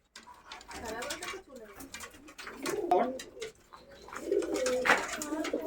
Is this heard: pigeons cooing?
yes